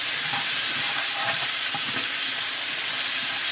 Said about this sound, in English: Then I'm gonna add the pepper and the onion. I'm gonna just mix it up in there.